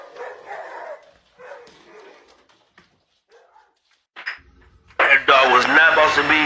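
A dog yips and barks loudly in a sudden burst near the end, after quieter scattered sounds and faint voices earlier.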